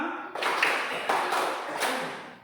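A fifth-grade class in an elementary school classroom clapping in unison in a rhythm game, a few crisp group claps spaced apart, fairly close and alone without talk.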